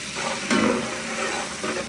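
Onions frying in a pan for biryani, a steady hissing sizzle heard close with a brief stirring scrape midway, continuous through the short stretch.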